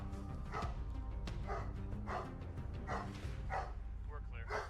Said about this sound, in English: only found the owner's agitated dog barking loudly